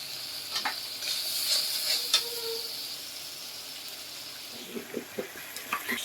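Spice paste frying in a pan for a Bengali potol dish with mung dal, giving a steady soft sizzle with occasional stirring scrapes and clinks close by.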